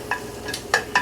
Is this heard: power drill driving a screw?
no